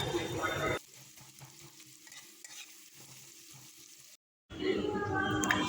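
Onions fry lightly in a pan, a loud sizzling burst at the start, then a quieter low sizzle with stirring and utensil taps, a brief silence, and the sizzle swelling again.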